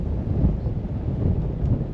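Strong wind on a mountain summit on Rurutu in the Austral Islands, buffeting the microphone in a low, steady rumble with gusty swells, loud and close, no voices.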